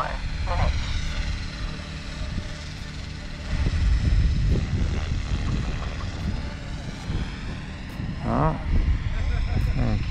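A Trex 500X RC helicopter flies nearby with a steady whining buzz that swells and eases as it moves, while a person talks over the engine.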